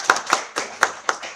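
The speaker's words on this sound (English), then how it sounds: "I think we should clap for the participants." Conference audience clapping for participants at an IEEE international conference session, several sharp, spaced hand claps in a short uneven burst, close and fairly loud.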